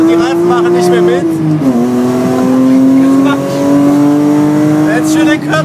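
A car driven hard in second gear by Christopher Mies and Adam Osieka lets out a loud, sustained, close tire squeal with shifting pitch over a howling engine, with the tires giving out under the strain.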